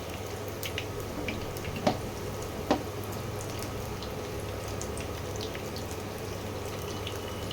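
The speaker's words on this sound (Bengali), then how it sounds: "আলুর বড়াগুলো এইভাবে লাল লাল করে ভেজে নিচ্ছি" Raw potato fritters frying in mustard oil, a soft continuous hiss of bubbling oil with two faint clicks of a utensil, steady and fairly quiet.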